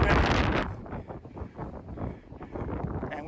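Strong gusting wind buffeting the microphone at the Stony Man summit in Shenandoah National Park, loud roaring bursts that swell and ease, heaviest at the start.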